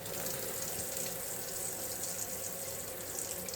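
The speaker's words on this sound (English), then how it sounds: "Let's open our hot water." Hot water runs steadily from a faucet while a water heater is drained, a constant hissing splash with no pauses and no voices.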